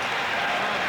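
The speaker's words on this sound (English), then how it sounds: "I'm hearing applause once again down." Applause on the New York Stock Exchange trading floor: a brief dense wash of many hands clapping, steady and fairly loud, with crowd noise mixed in.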